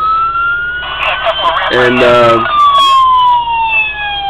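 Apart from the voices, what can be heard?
police siren from a custom diecast police car model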